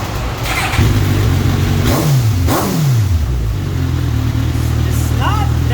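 A 2022 Suzuki GSX-S1000 motorcycle with an unrestricted ECU idles loudly, then its engine is blipped in two quick revs whose pitch rises and falls, before settling back into a steady, throbbing idle.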